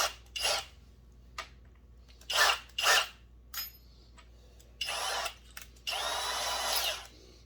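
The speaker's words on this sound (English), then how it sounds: "We're going to give her just a little deburring in the edge of the hole." A power drill deburrs the edge of a drilled hole during a Husqvarna 357xp chainsaw rebuild, giving several short close-up whirring bursts followed by two longer sustained runs, with no talking.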